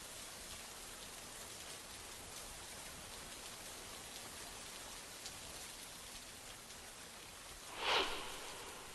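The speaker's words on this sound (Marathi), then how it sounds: "कोयना, नवजा, महाबळेश्वर या परिसरात मुसळधार पाऊस पडत असून" Heavy rain falls over the Koyna, Navaja and Mahabaleshwar area as a faint, steady wash of hiss with no voices. A short swell of louder noise comes near the end.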